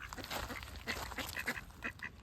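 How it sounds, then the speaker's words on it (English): Ducks quack in a rapid, overlapping cluster of short nasal calls, close by but fairly quiet, at Loch Lomond and Balloch with no talking. "Greedy little ducks."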